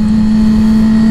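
A motorcycle engine blips its throttle during a downshift, giving a loud, steady, close-up engine drone with a strong hum and no talking over it.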